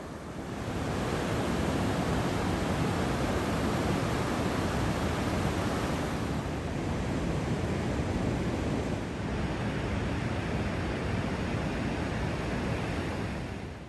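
Ocean surf at Hug Point beach on the Oregon coast rushes in a continuous loud roar of breaking waves, mixed with some wind buffeting.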